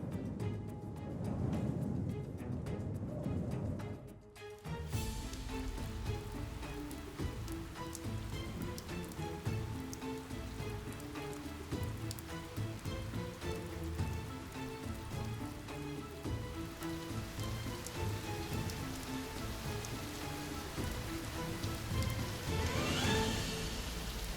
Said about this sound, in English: The rain poured down relentlessly, drowning out all sounds amidst the chaotic savanna.